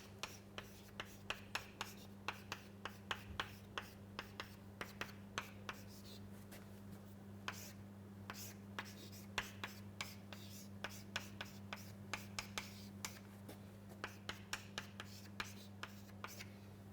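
Chalk or pen writing during a lecture, a steady series of quick taps and scratches over a constant low hum, close and fairly quiet, with no talking.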